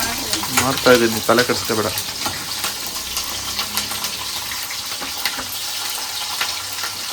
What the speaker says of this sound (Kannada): ಇದು ಒಗ್ಗರಣೆ ಅಷ್ಟೇ